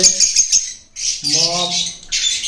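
Lovebirds and cockatiels call in a bird shop, harsh squawks and bright chirps overlapping in dense bursts, with one lower harmonic call in the middle, all loud and close.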